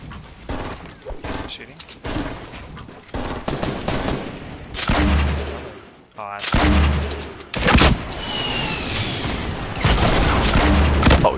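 Gunfire in the video game Fortnite, loud bursts of rapid automatic shots and heavy booms in several close volleys, broken by brief pauses, with players talking over the fighting.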